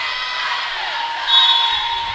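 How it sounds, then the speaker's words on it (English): A large crowd roars steadily at a high school girls' volleyball playoff match between Dripping Springs and Cedar Park, a dense, loud wash of cheering that swells briefly midway. "Crowd is super loud."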